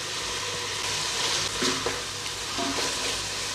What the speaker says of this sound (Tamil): இஞ்சி பூண்டோட பச்சை ஸ்மெல் போகிற வரைக்கும் நம்ம எண்ணெயில் வதக்கிடலாம்